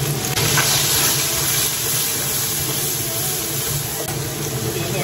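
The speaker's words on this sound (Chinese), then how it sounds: "把里面的油炒出来，把这个肥油倒出来，把瘦肉倒下去，放一点这个剁椒酱" Lean pork sizzles with chopped chili sauce in a wok after fat has been rendered out of it, cooked in a home kitchen in Hong Kong. The hiss is steady and dense, with no pauses and no talk.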